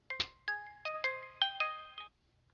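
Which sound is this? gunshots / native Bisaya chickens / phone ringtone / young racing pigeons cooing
phone ringtone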